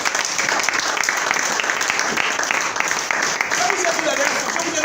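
A church congregation applauds throughout, dense sustained clapping filling the room, while voices ring out over it.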